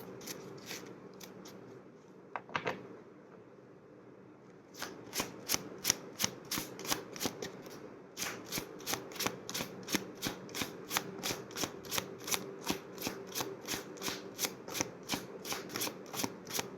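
Tarot cards are shuffled by hand, first a few scattered riffles, then a fast, steady run of crisp flicking snaps repeating evenly, close up and fairly quiet.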